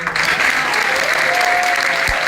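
An audience at a 2019 Fulton, New York award event applauds the mayor, with a dense, steady wash of clapping that holds at an even loudness for the whole short stretch.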